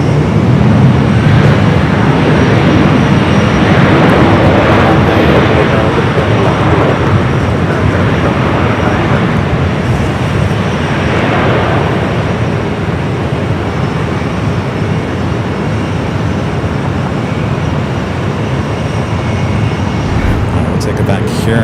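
Boeing 767-300ER freighter arriving at LAX, a steady broad roar of jet engines that holds loud and constant throughout, with talk over it.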